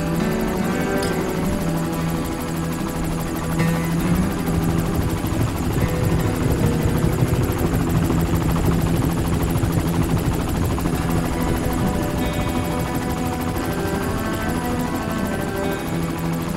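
A helicopter herding wild horses over open public rangeland, its rotor and engine a loud, continuous, close throbbing roar that holds steady throughout.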